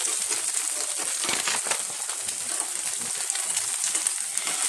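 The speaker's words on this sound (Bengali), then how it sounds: "আমি রুটিটার ব্যাক সাইড একটু কড়া করে ভেজে নিচ্ছি" A roti fries in a pan until crisp on the back side, a close, continuous crackling sizzle with small pops and scrapes scattered through it, no voices.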